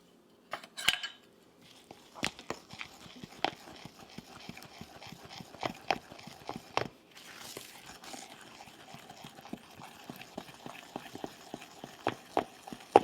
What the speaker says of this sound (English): you may wonder why I am mixing it with a knife. It's so that I can scrape around the sides of that mixing measuring cup